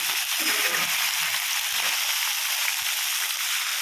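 Potato pieces fry in hot oil for a mixed vegetable dish, giving a steady, loud sizzle with a few soft stirring knocks near the start.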